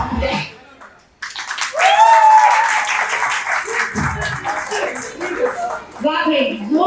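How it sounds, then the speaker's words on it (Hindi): Audience applause at a dance-floor event, breaking out loudly after a brief lull and holding steady as a dense crowd clapping, with whoops, cheers and some voices mixed in. "जोरदार तालियां हो जाए 3 देवियों का"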